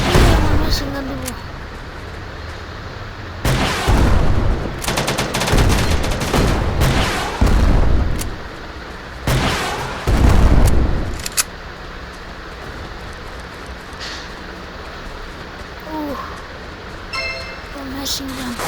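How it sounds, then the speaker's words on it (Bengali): Machine gun fire in a video game, with several loud bursts of rapid shots and booms clustered in the first half, then quieter game ambience, with talk over the top. "Machine gun."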